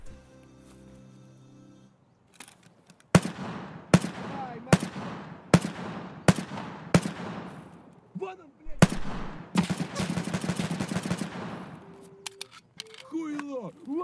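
Gunfire in the video game Escape from Tarkov: a volley of about six sharp, loud shots at a steady pace, then a denser burst of rapid fire, with a voice speaking around them.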